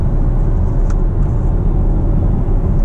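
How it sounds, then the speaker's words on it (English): A pickup truck engine pulls at low RPM in sixth gear, giving a steady, loud, close rumble from inside the cab that does not bog down. "if I put the gas down, it's not real fast here, you know, in sixth gear for at that low of an RPM"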